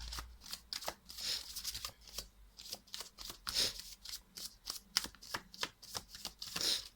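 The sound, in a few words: shuffling tarot cards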